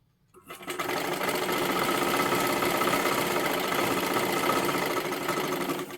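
A sewing machine stitches the lining onto silky fabric, starting after a brief silence and then running in a steady, continuous mechanical whir with a fast, even pulse.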